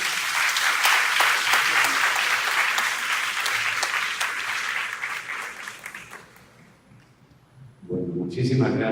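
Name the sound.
audience applause for the priest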